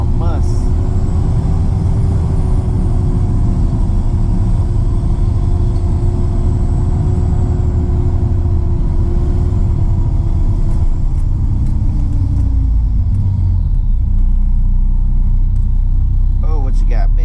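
A car driving over slick fallen leaves, with a steady loud engine and road rumble throughout and tires sliding briefly, the noise easing slightly near the end.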